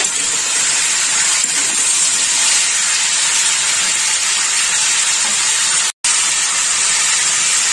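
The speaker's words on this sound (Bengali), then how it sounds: "সবজিটা একটু ভেজে নেব" Chopped vegetables fry in a pan for sesame-tamarind sour curry, a loud, continuous close sizzle and hiss with one brief cut near the end.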